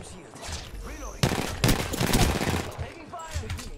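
Gunfire aimed at the player in Apex Legends: a sudden, loud volley of rapid, close shots breaks in partway through and continues in bursts, mixed with game sounds, while people talk.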